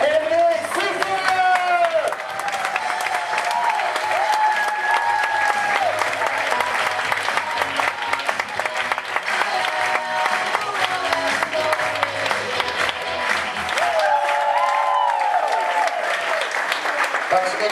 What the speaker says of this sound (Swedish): Då ger vi en jättevarm applåd till Henrik Sissinger